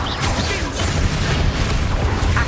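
Bombarda and Confringo spell blasts in Hogwarts Legacy come as loud, rumbling magical explosions layered with crackling bursts, a continuous heavy barrage that fills the whole stretch.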